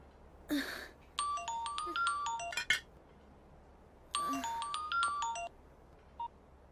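A melodic electronic ringtone plays two bursts of quick chiming notes with a pause between, faint and unaccompanied, with a few clicks around it.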